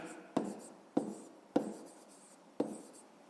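A pen writes by hand on paper while a math exercise is worked out, giving a few soft, separate scratchy strokes close by, with short quiet pauses between them.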